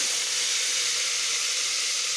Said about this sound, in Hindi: इसको फ्राई करेंगे